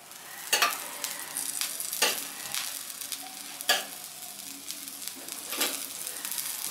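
Hot oil sizzles in a pan while cooking mixed dal dosa, a steady frying hiss broken by several sharp bursts and scraping stirs, close and fairly loud, with no talking.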